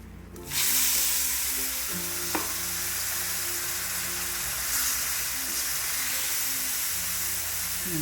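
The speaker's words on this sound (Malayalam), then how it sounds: "ഇനി കുറച്ച് തിളച്ച വെള്ളം ഒഴിച്ചു കൊടുക്കാം" Boiling water poured into a hot pan of cooking jackfruit mixture sets off loud, steady sizzling and hissing that continues throughout without talk.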